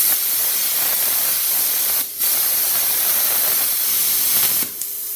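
A Cut-50 plasma cutter slicing through 3/16-inch by 1-inch steel strap gives a steady, loud hissing rush that runs almost continuously, with a brief dip partway through and a stop near the end.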